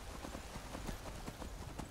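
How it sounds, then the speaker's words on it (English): A horse's hooves clip-clop at a steady walking rhythm in the Skyrim Special Edition role-playing game, with quiet, regular footfalls over a constant background hiss. "He's a horse, so we'll ride him."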